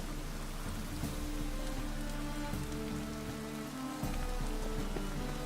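Steady rainfall in The Witcher 3, a dense, continuous patter of drops on surfaces with a low ambient hum underneath, even and unbroken throughout.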